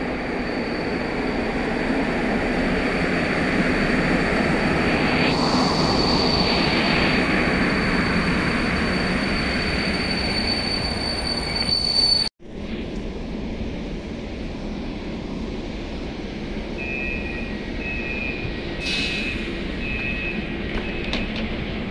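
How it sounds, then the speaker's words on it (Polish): A loud, steady rumble of a passing train in Tarnów, Poland, fills the scene, cut off abruptly midway, followed by continued rolling noise and a faint high whine. "Pociąg wydany."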